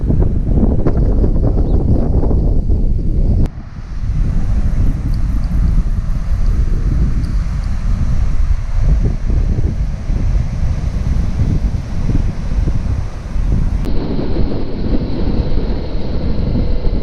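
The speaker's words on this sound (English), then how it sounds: "Very windy, I know." Strong coastal wind in Tasmania roaring and buffeting across the microphone, loud and continuous, with gusts rising and falling over a low rumble.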